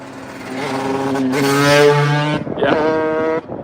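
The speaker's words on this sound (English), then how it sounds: "They'll rev it to blow your ear." Motorbikes roar past with rising, revving engine tones that swell to a loud peak, then drop away before a second bike passes, fairly close by.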